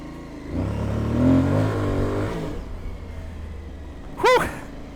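An Aprilia Tuareg 660 motorcycle on a desert trail in Colorado, its engine revving up and droning nearby for a couple of seconds before easing off, followed by a short chirping sweep near the end.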